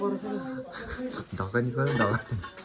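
A metal lid lifted off a cooking pot of local pork ribs, with clinks and rattles of cookware mixed under close, ongoing conversation.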